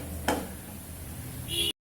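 Gram flour (besan) roasting in a pan is stirred with a spoon: one sharp scrape near the start, then a soft, steady sizzle that swells slightly before cutting off. Nobody talks, and it sounds close and fairly quiet.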